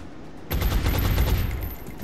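Gunfire in the XCOM Enemy Within video game: a sustained, loud burst of rapid automatic shots that starts abruptly and rattles on steadily for over a second, heard alone.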